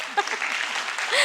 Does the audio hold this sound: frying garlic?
no